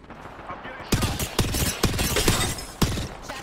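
Video-game gunfire from a ranked battle-royale match: sharp shots burst out in a quick irregular run of cracks after a brief quieter opening, with players talking over the shooting.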